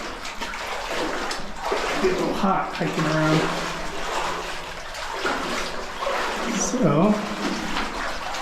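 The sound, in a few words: wading through shin-deep water in a mine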